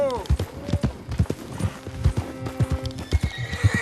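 A horse in Red Dead Redemption 2 gives a loud whinny while its hooves clip-clop in quick, uneven beats close by, with a voice cutting in.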